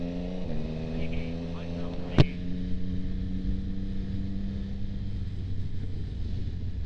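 Motorbike riding noise carried through an EJEAS Q8 budget helmet intercom: a steady, muffled engine drone with a constant hum, broken by one sharp click about a third of the way in.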